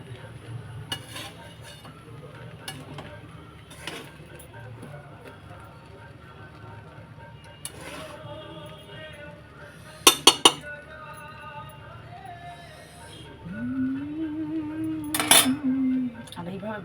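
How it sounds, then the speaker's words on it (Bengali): Spicy pulao being stirred and fried in a pan, with the spatula clinking and scraping against the metal at intervals, a few sharp clanks, and a soft sizzle underneath, close by. "ঝাল পোলাও মানেই হচ্ছে এইভাবে নেড়ে নেড়ে ভাজা ভাজা করতে হবে"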